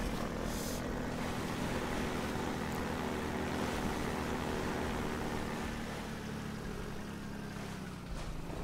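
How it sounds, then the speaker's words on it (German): Helicopter in the video game Half-Life 2, a steady loud rotor and engine drone that fills the whole clip, holding level with only a slight dip near the end. "Entweder wir schießen die Hubschrauber ab oder..."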